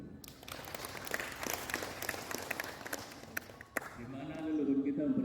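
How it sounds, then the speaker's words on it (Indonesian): An audience claps at a talk, a moderate burst of scattered applause that carries on for several seconds before a speaking voice takes over near the end. "Luar biasa dulu, tepuk tangan dulu"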